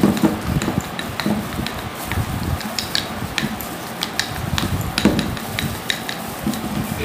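A spoon or brush stirs hair colour mixture in a bowl, scraping and clinking steadily up close with small knocks throughout, no one talking.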